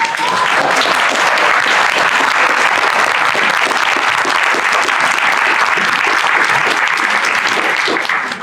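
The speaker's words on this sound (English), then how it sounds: "we owe it to these folks a round of applause for being here" Loud, dense applause from an audience at a Hawaii governor and lieutenant governor candidate panel, a sustained roar of many clapping hands lasting the whole stretch and fading slightly at the end.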